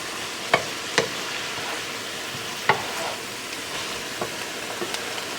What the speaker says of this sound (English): So I'll stir it with the black pepper in there.